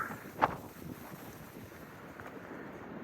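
Wind gusts across a cold, sunny valley overlook near Skyland Resort, a soft steady rush buffeting the microphone with one brief louder gust early on.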